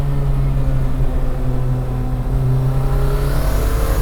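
A turbocharged four-cylinder car engine revs loudly and steadily up close, with a constant droning harmonic hum and a wastegate note over it, no talking.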